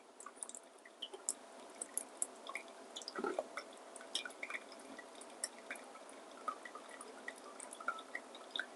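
Quiet, irregular drips and trickles of pour-over coffee falling through a filter into a vessel, soft and close, with a gentle continuous hiss of water beneath.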